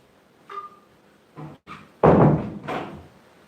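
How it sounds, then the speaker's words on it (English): Doors slamming indoors, a few separate thuds and bangs building to one loud heavy slam with a rumbling tail, followed by another bump, close and without talk. "Got some slamming doors."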